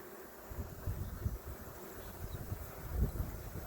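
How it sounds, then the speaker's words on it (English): A steady low hum of many honeybees buzzing around a hive, with faint rustling and wind-like texture throughout. "And then we have all those bees in there."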